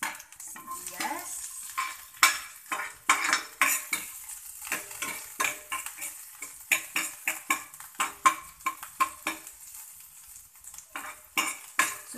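Chopped onions sauté in hot oil in a pan, with a soft sizzle under repeated scraping and clinking of a utensil against the pan, close and fairly quiet.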